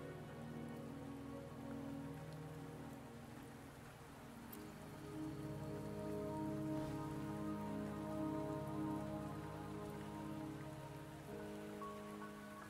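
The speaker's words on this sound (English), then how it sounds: "Don't worry, the rain won't last much longer." Steady rain patters across surfaces in the video game Wuthering Waves, a soft, continuous shower that swells slightly partway through and carries no voices.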